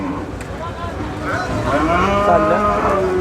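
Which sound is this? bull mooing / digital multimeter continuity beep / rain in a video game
bull mooing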